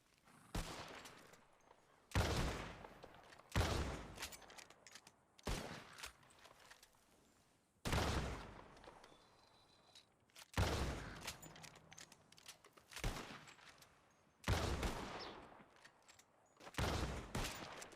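Double-barrel shotgun blasts from a video game, about seven sharp booming shots spaced a second or two apart, each with a broad crack and quick decay, alone without talk.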